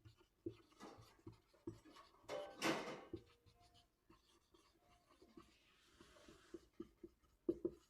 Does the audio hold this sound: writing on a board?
yes